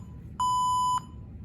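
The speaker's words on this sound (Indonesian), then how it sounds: "LCD akan menampilkan status gempa terdeteksi, LED akan menyala, dan buzzer pun akan berbunyi." An Arduino UNO earthquake detector's buzzer sounds a single steady electronic beep lasting about half a second, loud and clear over a faint low hum.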